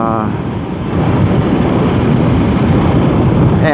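A 2021 BMW R 18 cruiser motorcycle's big engine lugs below 2000 RPM with a dense, rumbling low drone that shakes steadily throughout, loud and close, with wind rush and a voice talking over it.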